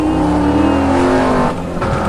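A car engine drones loudly in the Roblox game Fieldtrip Z, a steady close motor tone that dips briefly before resuming.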